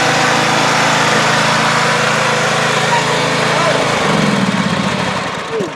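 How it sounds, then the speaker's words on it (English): A lawn mower engine catches and runs loud and close, a steady small-engine drone that shifts into a rougher, pulsing idle partway through. "So the mower started first pull."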